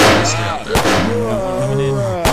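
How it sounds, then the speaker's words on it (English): Two loud gunshots fired out of a window in ARMA 2, one early and one near the end, set against someone talking continuously throughout. "I'm gonna shoot out the window and stay out"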